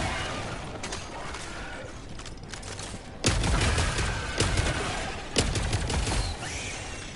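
Mortar fire in the game Helldivers, with several heavy booms landing in turn, each a loud thump with a lingering rumble, over steady mechanical clatter and battle noise, with no talk.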